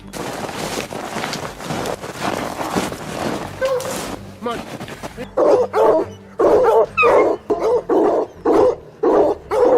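Hunting dogs chasing a mountain lion bark in a string of loud, close yelps and barks, coming faster and more regularly in the second half, with voices talking early on.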